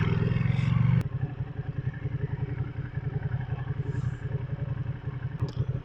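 A 2020 Ducati Panigale V2 twin-cylinder motorcycle engine idles and putters with a steady, throbbing low pulse, loud and close, after a brief heavier rev at the start.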